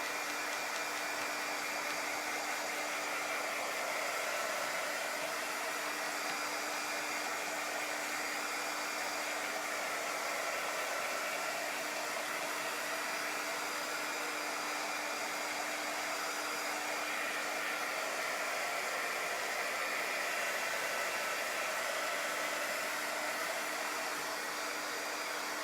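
Heat-tool dryer drying shimmer paste on a chalk craft bunny wreath, a continuous loud, even blowing whir that runs unbroken throughout with no talking.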